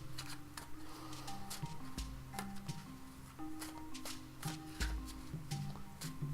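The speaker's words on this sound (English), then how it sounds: "So let me just shuffle up a few more times here." Tarot cards riffled and shuffled by hand at close range, a quiet run of crisp flicks and soft taps repeating in an uneven rhythm with no talking.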